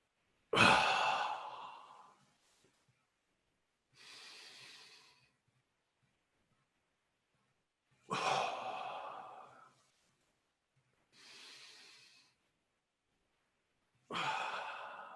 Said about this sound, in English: Okay, I breathe in and squeeze.